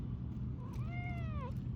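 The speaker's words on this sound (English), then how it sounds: "This is Kitty Cat with her head to the thing" A cat meows once in a rose garden, a clear, rising and falling call under a second long heard close up over a low outdoor rumble.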